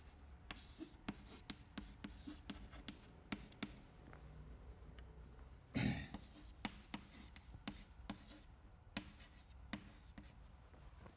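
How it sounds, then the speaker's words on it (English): Red chalk writing an equation on a lecture-hall blackboard, giving a run of quiet, irregular taps and short scratchy strokes with one longer scrape midway. "I will write it with a red chalk"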